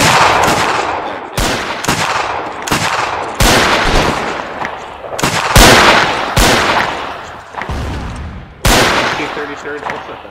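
Rifle fire in Mount & Blade during an Anglo-Boer War battle, a ragged volley of sharp, loud cracks repeating irregularly for about ten seconds, each shot ringing out with a short tail.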